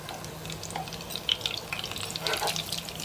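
Homemade chicken seekh kebabs frying in a pan, with an even, crackling sizzle and a few clinks and scrapes as they are turned and lifted out.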